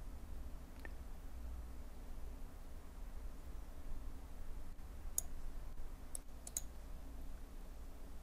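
Mouse clicks while working in Inventor CAD software, a few faint sharp clicks scattered over a quiet low hum, with a small cluster toward the end.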